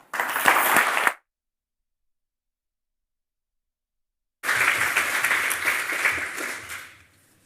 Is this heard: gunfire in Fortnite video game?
no